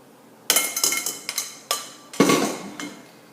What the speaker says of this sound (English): Just give it another couple stirs.